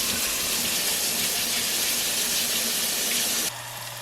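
Grubby potatoes being scrubbed under a steady stream of running tap water into a sink, a continuous close hiss that drops abruptly to a quieter hum near the end.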